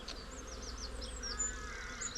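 Honey bees buzzing in a packed, overwintered beehive, a steady close drone with individual bees zipping past in short rising and falling whines.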